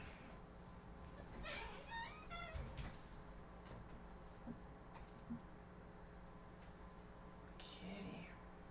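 A cat meows faintly a few times in a quiet room over a steady electronic hum, with soft ticking and small knocks in between.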